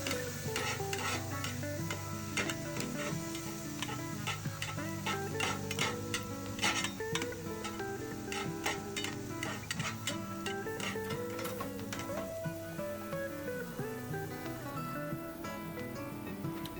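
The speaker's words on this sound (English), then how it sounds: "just kind of go like that with 2 spatulas and just kind of keep shredding it" Cheesesteak meat shredded with two spatulas on a hot griddle, a steady sizzle under rapid metallic scraping and tapping, with clustered clicks and light clatter throughout.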